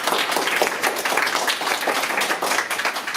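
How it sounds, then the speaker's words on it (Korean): University students at a lecture applaud to welcome a visiting professor, a brisk, close burst of many overlapping claps lasting a few seconds. "먼저 우리 김홍년 선생님한테 큰 박수로 환영의 박수를"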